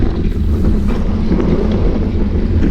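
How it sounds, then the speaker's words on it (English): Strong gusty wind roaring across the microphone while cycling on a group road ride, loud and continuous low buffeting that dominates, with no talking. "You can hear the wind. It is blowing like crazy, and then we have gusts."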